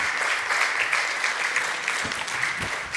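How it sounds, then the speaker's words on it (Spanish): A church congregation applauds loudly and steadily for the full three seconds, a dense unbroken wash of clapping with no voices standing out. "Denle ese aplauso fuerte al Señor."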